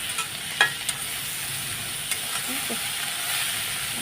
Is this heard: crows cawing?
no